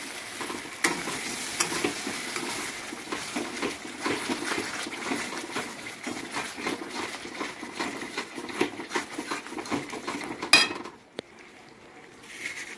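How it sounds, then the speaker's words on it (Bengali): Poppy seed paste thinned with a little water is stirred in a pan over a low flame for a Bengali fish curry, with soft sizzling and repeated scraping strokes, a sharp clank near the end, then quieter frying. "এবার আমি হালকা কষাবো জিনিসটাকে"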